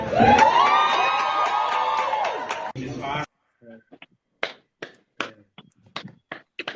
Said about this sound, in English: Applause.